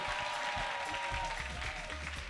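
Studio audience applauding guest Affou Keita on a Showtime television set, a steady broadband clapping with a faint tonal hum underneath, moderately quiet and continuous throughout.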